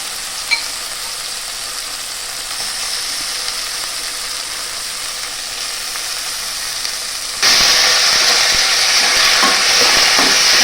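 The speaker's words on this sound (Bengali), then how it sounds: "ভালো করে আমি একটু নাড়াচাড়া করে নেব" Soaked rice stirred into sizzling fish-head masala for muri ghonto, a steady close frying hiss with spoon scrapes that grows suddenly louder partway through, with no talking.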